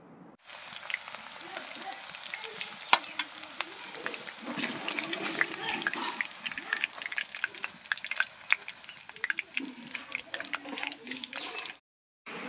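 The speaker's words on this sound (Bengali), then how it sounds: "এই মুরগির মাংসে সব মশলা মাখিয়ে দিয়ে চলে গেছে। আমি আধ ভাজা করে রেখে দিচ্ছি।" Spice-coated chicken pieces fry in hot oil with a dense, continuous crackling sizzle and occasional stirring clatter, close and steady throughout before cutting off abruptly near the end.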